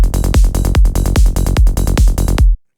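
A Roland 909-style drum pattern: booming kicks with crisp hats and snare, played loud and steady with synth bass underneath, stopping sharply.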